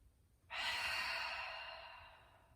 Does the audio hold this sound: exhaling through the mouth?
yes